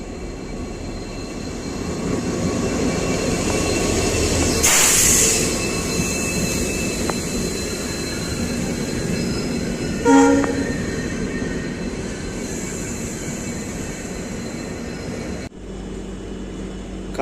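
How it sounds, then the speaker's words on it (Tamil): A Coimbatore–Rameswaram weekly express train rumbles steadily into a crossing near Karaikudi Junction, with a loud horn blast partway through and a brief metallic clank later, the rolling noise continuing close by until it cuts off abruptly. "வண்டி வந்துருச்சு."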